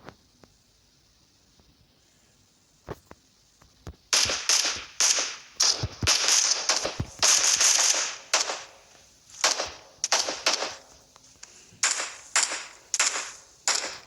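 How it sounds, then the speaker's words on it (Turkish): Loud bursts of PUBG Mobile gunfire, rapid cracking shots in clustered volleys after a few isolated pops, continuing for several seconds. "Bak bak silah sesi"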